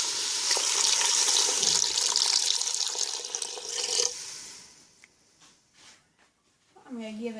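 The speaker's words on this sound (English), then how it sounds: "you can add 2 cups of vegetable broth, or you can add 2 cups of water" Vegetable broth is poured slowly into a pot with a steady splashing trickle for several seconds, then it tapers off into scattered drips and stirring noises, with a voice talking briefly near the end.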